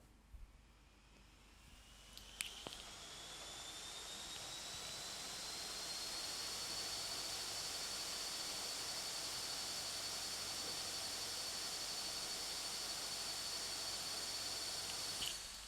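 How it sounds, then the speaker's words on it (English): A Xiaomi Mi Gaming Laptop cooling fan spins up to turbo mode, a rising whine settling into a loud, steady, airy roar that holds for many seconds. "I'll push the turbo fan mode."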